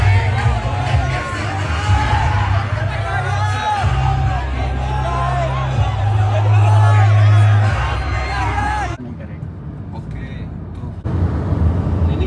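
A dense crowd murmurs behind someone speaking Hindi on the first day of Navratri, with a steady babble of voices and passing road traffic that drops away abruptly near the end.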